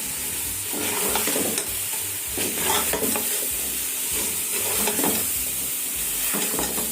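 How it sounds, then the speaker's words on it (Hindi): Fried golden onions are mixed into bhindi gosht in a pan, with a constant close sizzle and hiss under irregular scraping stirs of a spoon. "इसको हम अच्छे से मिक्स कर लेते हैं"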